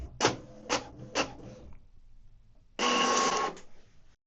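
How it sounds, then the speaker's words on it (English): An HP Smart Tank printer runs its print head cleaning cycle, with three sharp mechanical clunks followed by a pause and then a steady, loud whirring run that stops abruptly. "the printer will clean its print heads and give you a test page"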